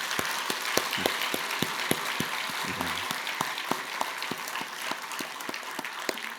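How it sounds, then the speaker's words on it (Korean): A church congregation claps steadily at an even pace throughout a New Year's Eve service, moderately loud and reverberant, as a large indoor gathering applauds together. "그분들에게 감사합니다 하고 박수 한번 해주시면 좋겠습니다."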